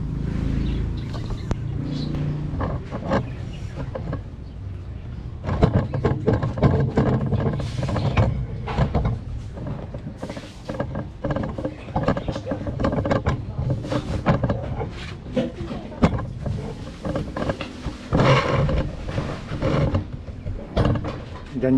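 A homemade kerosene stove burner roars as it heats up, a rough, continuous rushing that thickens and grows louder partway through, heard up close with faint background noise.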